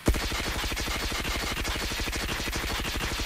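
Rapid sustained automatic fire from a Groza assault rifle shot from the hip in a video game, a fast even string of loud, punchy shots with no pauses, close and dominant, with no talking.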